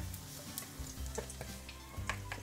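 Salmon fritter batter fries in a pan with a faint, steady sizzle, a few soft ticks and light clinks of a utensil scattered over the low hum, with no talking.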